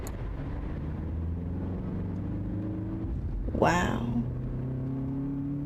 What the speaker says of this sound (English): our words instinctually would miss the engine noise and the wind buffing against us